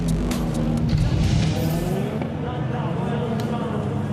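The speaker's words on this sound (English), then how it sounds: "See the cars rolling back past Spotters Tower." Rallycross cars roll past Spotters Tower at Spa, a loud, rumbling engine drone that thins out after the first half, with a commentator talking over it.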